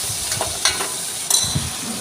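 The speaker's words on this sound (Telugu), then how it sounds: "పచ్చిమిరపకాయలు ఉల్లిపాయలు వేసుకుని కాసేపు ఫ్రై చేశాను." Green chilies and onions fry in a pan with a steady, close sizzle, broken by a few sharp clicks and scrapes from stirring.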